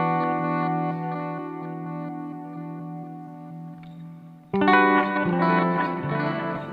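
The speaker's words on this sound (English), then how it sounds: "all of the wash from your reverb is going to go into your delays, and it basically just makes this bigger," EQD Avalanche Run guitar pedal sends a sustained, harmonically rich guitar chord through reverb into delay, washing out in a long shimmering tail before a fresh, louder strum swells in near the end, with no voices.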